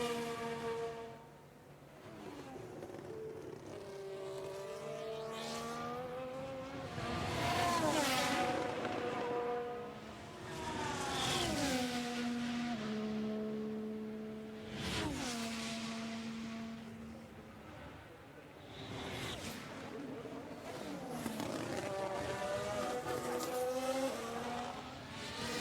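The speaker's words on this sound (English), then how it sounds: "just the sound of those cars." Race car engines in a racing video game roar and whine continuously, pitch sweeping up and down through gear shifts as cars pass, with occasional tire squeal; no speech.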